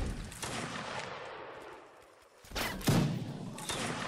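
Musket volleys in Mount and Blade: Napoleonic Wars, a ragged rolling crackle of distant shots, a brief lull, then a sharper volley with heavy booming reports.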